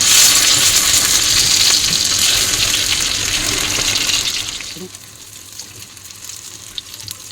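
Chicken buns frying on low heat in butter and a little oil, a loud hissing sizzle that gradually fades to a quieter crackle with small pops.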